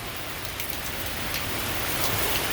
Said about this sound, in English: Here's another batch of heavy rain.